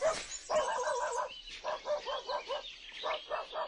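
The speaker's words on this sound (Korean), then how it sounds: "등 뒤에서 개 짖는 소리가 들렸지만 돌아보지 않았다." A dog barks in a series of repeated barks and yips with a steady rhythm, heard fairly clearly at moderate volume with nothing else over it.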